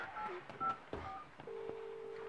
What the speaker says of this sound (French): Moi, je vais téléphoner à Nabila.